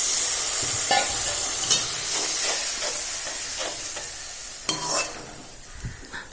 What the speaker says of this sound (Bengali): জল ঢেলে দিচ্ছি, মশলা কষানো হয়ে গেছে, জল ঢেলে দিচ্ছি।